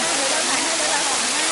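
Waterfall at Kor Luang falls in Thailand pours steadily in a dense broadband rush of falling water, close and loud, with no break through the brief stretch.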